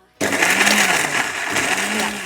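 A mixer grinder whirs as it blends tomato chutney, starting abruptly and then running as a loud, steady motor whine with a slight wobble in pitch, close by, with a voice faintly under it.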